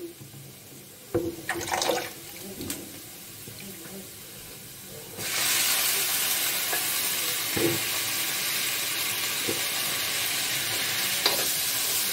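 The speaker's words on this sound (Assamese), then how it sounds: "পছলাখিনি দিয়াৰ পিছত আৰু মই ভালদৰে ভাজি ল'ম" Utensil clinks and stirring come first, then a loud, steady sizzle of banana stem pieces frying takes over, with occasional scrapes of stirring through it.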